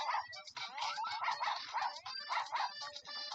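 Repeated cartoonish dog barks and yips from a PS Vita video game, coming in a quick steady rhythm of bright bursts that carry on through the whole stretch with no speech.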